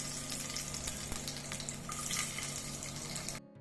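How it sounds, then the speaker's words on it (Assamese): Garlic and cumin frying in hot ghee in a small tadka pan, a dense crackling sizzle up close for a few seconds before cutting off abruptly, with no talk. "এয়া মই নহৰুখিনিও ভাজি ল'লোঁ"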